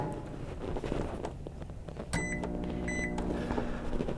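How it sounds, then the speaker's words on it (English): A microwave oven starts up with a couple of electronic beeps. It then hums steadily and loudly at close range, with some clatter just before it starts. "the microwave's using up all of the power"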